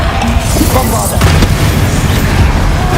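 A Bombarda spell explosion in Hogwarts Legacy, a loud continuous boom and rumble amid dense game combat noise, with a voice shouting spell names over it.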